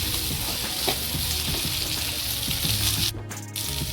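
Peas for a mutton kachori filling sizzle and fry steadily in a pan, with scraping stirring strokes and a brief clatter near the end, loud and close with no voices.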